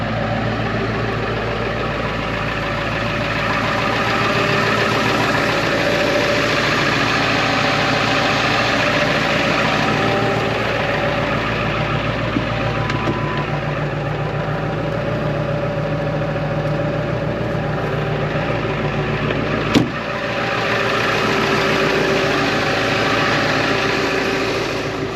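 A Ford 7.3 diesel engine idles steadily in the cold amid snow, a continuous low rumble with a brief sharp click near the end, close and alone with no talk.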